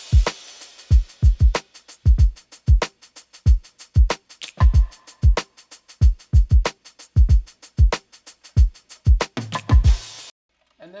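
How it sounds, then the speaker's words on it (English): Drum kit beat in a produced track with a crash cymbal, toms and rim shots over kick and snare, loud steady pattern with a cymbal wash near the end before it cuts to near silence. "let's add in some of those extensions of the drum kit, crash, the toms, and some of the additional rim shots."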